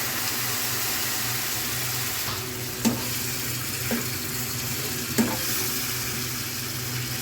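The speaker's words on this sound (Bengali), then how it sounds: "এখন একটু পানি দিয়ে দিব" Water is poured into a pan of fried spices for rohu fish roe bhuna, raising a loud, steady hiss and sizzle that runs throughout, broken by a few light clanks of utensils.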